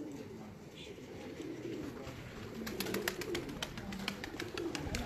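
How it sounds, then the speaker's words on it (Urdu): Breeder pigeons coo on a rooftop in a low, soft, repeated warble, with faint background noise and some sharper clicks or flutters later on. "یہاں پہ بہت سے کبوتر ہیں"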